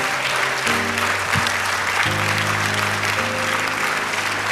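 A church congregation applauds the Lord in a sustained, dense round of clapping, with organ or keyboard tones sounding steadily underneath.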